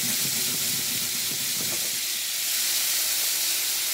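A pork chop sears in a hot pan while being basted with butter, rosemary and garlic, giving a loud, steady hiss and sizzle close by, with a brief muffled scrape of the spoon early on.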